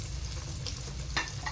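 Crispy fried food drains from hot cooking oil with a steady close sizzle and crackle, a couple of small clinks rising briefly over the bubbling.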